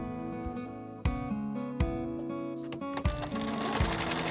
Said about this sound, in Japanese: フリルの真ん中をミシンで縫うで。